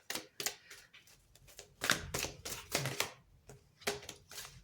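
Tarot cards shuffled, slapped and drawn one after another in a quiet room, a run of sharp close papery snaps and rustles with short pauses between, no voices.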